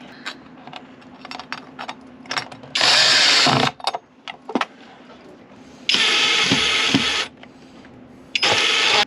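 A power screwdriver drives a screw into pre-drilled wood inside a camper van conversion, three loud whirring bursts of driving broken up by clicks, taps and handling noise.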